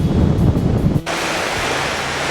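Surf washing ashore at a quiet waterside park, a loud broad rushing wash that suddenly drops to a softer steady roar partway through, with no voices.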